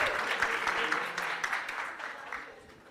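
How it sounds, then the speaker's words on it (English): An audience at a Christmas lecture at the UCL GOS Institute of Child Health claps warmly, a full burst of applause that gradually thins and fades toward the end. "if we could all give her a round of applause as well"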